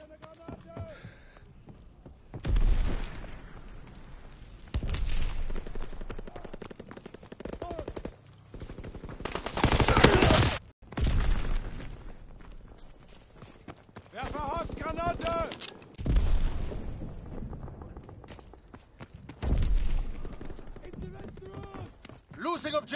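Gunfire from a World War II shooter game crackles in repeated bursts and single shots, loud at times and fading at others, while soldiers shout over the battle.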